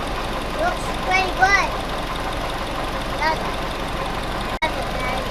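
A Willys CJ2A with its L134 four-cylinder engine idling, a steady low rumbling chug, moderately close, with brief chirps and clinks over it.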